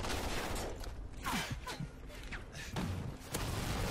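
Several short thuds, clicks and gunfire bursts from a Call of Duty: Ghosts gun game match, including hit marker feedback sounds mixed into busy game audio, close and moderately loud.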